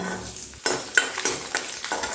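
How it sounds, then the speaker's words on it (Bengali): Garlic sizzling in hot oil left from frying drumsticks, a steady hiss punctuated by several rhythmic scrapes of a spatula stirring the pan. "তুলে নিয়ে ওই তেলের মধ্যে ভেজে নেব কিছু রসুন"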